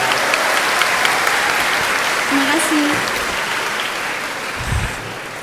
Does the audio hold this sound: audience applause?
yes